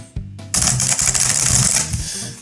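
Typing on an RGB gaming keyboard, a close, rapid run of crisp key clicks after a brief pause, continuing densely for a couple of seconds.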